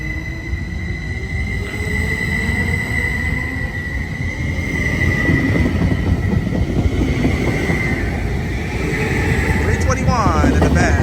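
A Caltrain Stadler electric EMU local train pulls out of Hillsdale station southbound, its motor whine and wheel rumble swelling steadily over about ten seconds, loud and close.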